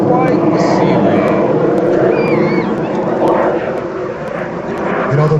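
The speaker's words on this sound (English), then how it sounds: "Coming in with a super low pass here with the Magister." A Fouga Magister jet making a super low pass at an airshow roars steadily and loud throughout, with a commentator talking over the engine noise.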